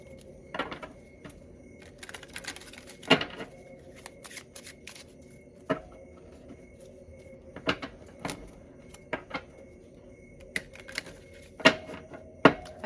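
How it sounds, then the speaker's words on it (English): Oracle cards shuffled by hand in a quiet room: soft riffling, tapping and card slaps come in irregular bursts with pauses between them, close and fairly faint. "as I'm shuffling these cards"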